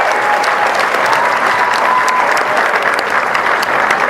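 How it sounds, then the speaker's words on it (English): Steady, dense applause from a school theater audience thanking the tech crew, filling the hall evenly throughout with a faint tone drifting underneath. "give them a big round of applause."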